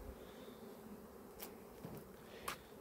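Faint, steady buzzing of many robber bees swarming near a hive, a continuous low drone with a few brief louder passes close to the ear.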